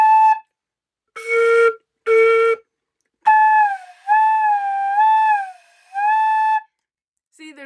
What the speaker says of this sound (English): There's actually quite a bit of fun things that we can do just with the head joint.